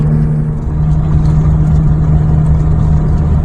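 A ZAZ Slavuta 1103 car engine drones steadily at about 2,500 rpm while cruising at 80 km/h, a loud, constant low hum with road noise filling the cabin, no voices.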